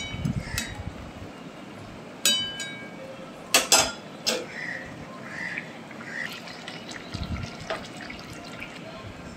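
Gravy with lentil fritters bubbling in a pot on a gas stove, a steady low simmer broken by scattered popping drips and a few sharp metallic clinks of a utensil against the pot.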